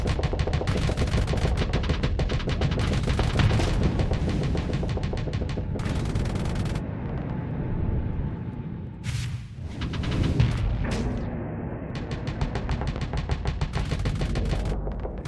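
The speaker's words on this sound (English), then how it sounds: "So I got the missiles selected. Let's fire on this." Missiles fire in a burst during space combat in Starsector: rapid, crackling volleys of launches and blasts, with a short lull partway through before the staccato firing resumes, loud and close.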